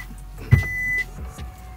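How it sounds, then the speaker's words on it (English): A 2024 Kia EV6 GT electric car reversing by itself whirs with a soft mechanical motor hum, a short thump, then a steady electronic tone lasting about half a second, with quiet surroundings. "This car backed up on its own."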